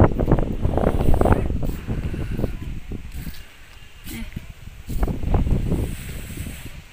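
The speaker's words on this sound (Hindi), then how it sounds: "ये उड़ भी गए आधे कपड़े, क्या हवा चली है" Strong winter wind in Haldwani buffets the microphone in heavy rumbling gusts that swell and ease, loudest at the start and again near the end, with a voice faintly underneath.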